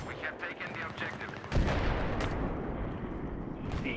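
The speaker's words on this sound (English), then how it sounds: "I just shot this guy right in the face, point blank." Gunfire in the video game Battlefield 3 from an AUG A3 rifle with a suppressor, a burst of muffled shots followed by a loud blast and rumbling echo, fairly close over a busy battlefield din.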